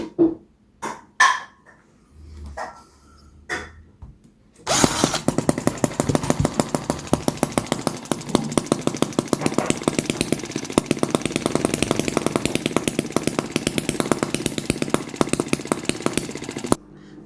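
After a few scattered knocks and pops, a vintage model engine bursts into life and runs loud and close with a rapid, steady buzzing firing rhythm that holds through to the end.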